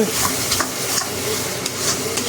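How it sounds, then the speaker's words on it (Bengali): Masala being stirred and fried for doi katla, a Bengali curd-based fish curry, in a catering kitchen: a continuous sizzle broken by repeated scraping strokes of the spatula, close up and with no talk. "দই কাতলার যে প্রিপারেশনটা, সেটার মধ্যে মশলাটা কষা হচ্ছে এখনও"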